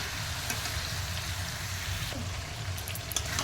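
Marinated meat coated in ground spices, ginger-garlic paste and yogurt sautéed in a pan, giving a steady close-up sizzle and crackle like light rain throughout, with no talking.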